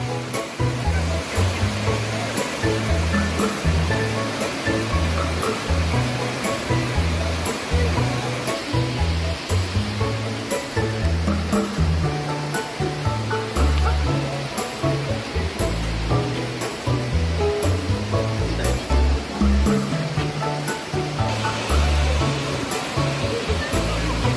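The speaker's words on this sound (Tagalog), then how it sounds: "Oh, that's the waterfall." The waterfall at Shiraishi Falls gives a steady, loud rushing roar of falling water that continues evenly throughout.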